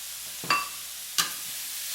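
Turkey sausage, bell peppers and onions sizzle in a pan, softly and faintly, broken by two brief scraping stirs about a second apart.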